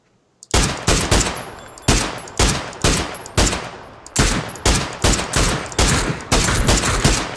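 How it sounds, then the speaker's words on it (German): Gunfire in the battle royale game PUBG: a rapid series of loud, booming shots, roughly a dozen blasts in irregular bursts, each with a short decaying tail, heard up close. "Direkt hier bei 350 vor uns schießt einer."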